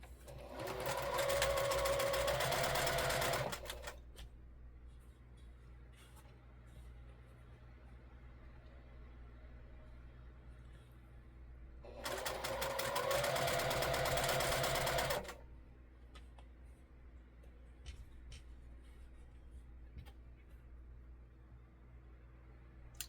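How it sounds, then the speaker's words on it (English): A sewing machine stitches quilt pieces in two separate runs of roughly three to four seconds each. Each burst is a fast, even whir, and a quiet room hum fills the gap between them. "Guess this would be sewing ASMR."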